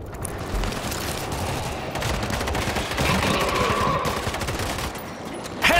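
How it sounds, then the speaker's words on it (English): Dense automatic gunfire in the World War Z zombie shooter, a continuous loud crackle of overlapping shots that runs almost unbroken from start to finish. "Stop shooting!"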